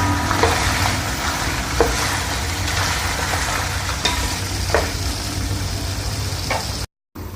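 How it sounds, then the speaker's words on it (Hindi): Chicken karahi pieces fry and crackle loudly in a pan with tomatoes, a thick sizzling hiss punctuated by occasional stirring clinks, cut off briefly by a short silence just before the end. "अब ये चिकन हमारी भून रही है।"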